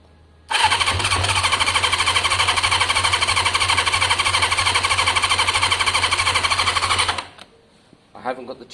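A Kawasaki ZL600 motorcycle with carburettor float trouble and no choke cranks and fires, then runs loud and close in a steady, slightly uneven rasp for about six seconds before cutting out abruptly, followed by brief faint sounds.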